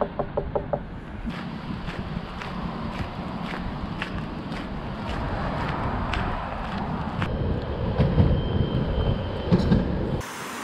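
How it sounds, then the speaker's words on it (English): A coastal tram between De Panne and Knokke runs along its tracks, a rumbling rolling drone with a regular series of clacks as wheels cross rail joints, loud and close from inside, ending abruptly. "at least the trams are still running up this way"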